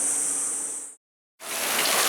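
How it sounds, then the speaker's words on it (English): Steady rain falls outdoors in Fukuoka, Japan, in July, a dense, even hiss that cuts to silence for a moment and then resumes just as strongly. "and then the rain began again"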